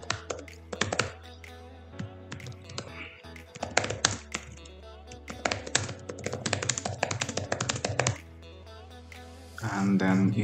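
Rapid clicking keystrokes on a computer keyboard as a name is typed, several quick bursts of close tapping with brief pauses, a low steady hum underneath and a voice talking near the end.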